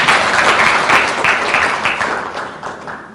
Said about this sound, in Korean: 좋은 축하의 말씀 해주신 조정식 의원님께 다시 한번 큰 박수 부탁드리겠습니다.